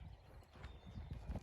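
A horse's hooves clip-clop slowly at a walk, several soft uneven thuds close by in a quiet setting.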